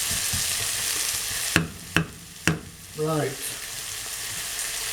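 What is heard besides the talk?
bolognese sauce frying in a pan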